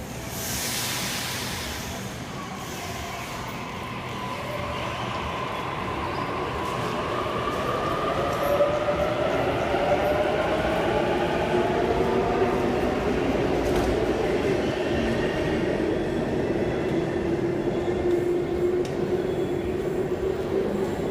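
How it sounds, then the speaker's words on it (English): A Sydney B1 train pulls away from platform 1 at Chatswood, its motors rising in a smooth climbing whine over rumbling wheels that grows steadily louder and fuller as it gathers speed. "B1 is now departing platform number 1 of Chatswood."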